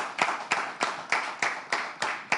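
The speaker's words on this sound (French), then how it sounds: "On applaudit, on l'acclame ici" About eight sharp, evenly spaced hand claps ring out in a steady rhythm, like a small audience clapping in unison at a French event, fairly soft with no voices over them.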